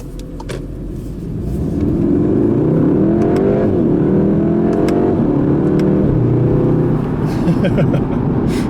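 A 2016 Volkswagen Golf R with a DSG gearbox accelerates hard, its engine note climbing steadily through the revs and loud and close from inside the cabin, then holding a strong, sustained drone after a gear change.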